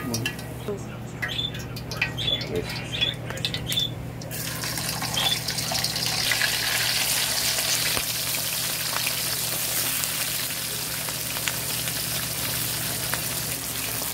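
Whole eggs frying in a pan for a breakfast of shrimp and crab, a steady close hiss and crackle of hot oil that swells after a few seconds and keeps sizzling evenly.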